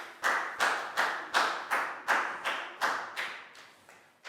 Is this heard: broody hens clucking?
no